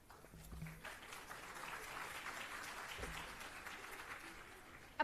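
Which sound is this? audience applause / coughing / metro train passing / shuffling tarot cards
audience applause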